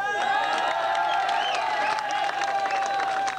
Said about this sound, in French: vous pouvez les applaudir très très très fort